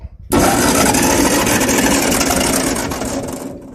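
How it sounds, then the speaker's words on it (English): After a moment of quiet, a Ford 8N tractor's starter motor, failing to disengage, bursts into a loud, sustained grinding whir that runs steadily at close range before easing slightly near the end. "starter motor doesn't disengage"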